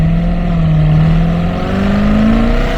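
A C7 Corvette Z06 engine holds a loud, steady, close-up roar at high RPM, its pitch rising gradually over a few seconds as the throttle is lightly pressed. No one speaks over it.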